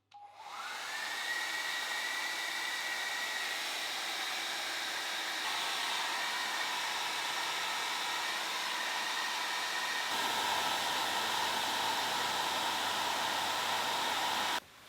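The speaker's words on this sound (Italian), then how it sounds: "Doppio asciugacapelli per un totale di 1600 watt più 1200 watt." Two hair dryers, 1600 W and 1200 W, powered by a Bluetti AC300 power station, blowing a steady loud rushing whine that spins up at the start and holds without a break, with no voices.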